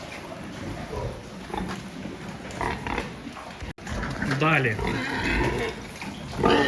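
A gilt grunts and snuffles in a farm pen before a hormone injection, a mix of low grunts and higher squeals with some clatter, heard under someone talking.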